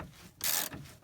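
A ratchet wrench tightens a sway bar end link nut on a PT Cruiser, giving one short, close burst of dry clicking.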